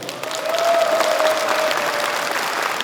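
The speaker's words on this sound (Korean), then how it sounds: "윤석열 대통령이 들을 수 있도록 박수를 크게 한번 쳐주시기 바랍니다" An audience at a forum on bringing the 2025 APEC summit to Gyeongju breaks into loud, dense applause, a steady wash of clapping that fills the space with a faint tone running beneath it.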